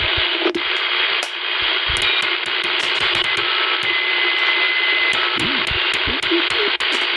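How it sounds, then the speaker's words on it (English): A 1978 Teaberry Stalker 202 CB radio hisses steadily with static while short, sharp electronic beeps repeat at irregular intervals, with faint low rumbles underneath. "I hear bleep bleeps."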